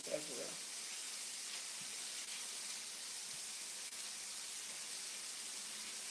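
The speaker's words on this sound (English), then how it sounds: "going to add some shrimp to our fried rice as well" Shrimp sizzle steadily in a hot pan with fried rice for homemade hibachi, a constant bright hiss and crackle after a brief clatter at the start.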